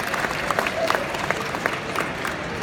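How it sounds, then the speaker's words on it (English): A small gathering at the National Railway Museum in York gives a light, scattered round of applause during a turntable demonstration, with steady crowd murmur underneath. "I think Ian deserves a tittering of a round of applause there."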